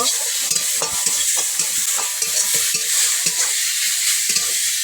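Garlic, green chili and onion sauté with cumin in hot oil, a steady loud sizzle broken by repeated scraping strokes of a spoon stirring the pan, with no voices.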